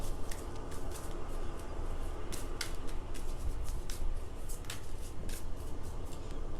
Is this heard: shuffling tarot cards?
yes